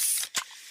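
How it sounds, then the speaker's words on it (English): A fizzy Pepsi can is cracked open with a quick sharp snap followed by a short burst of carbonated hiss, close and fairly soft, with no voices. "that's the sound of a freshly opened fizz-filled Pepsi"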